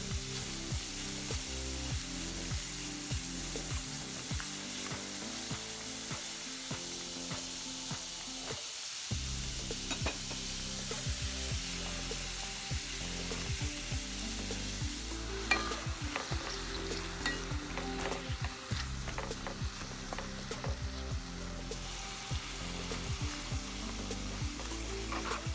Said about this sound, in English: I'm going to start frying up all my vegetables.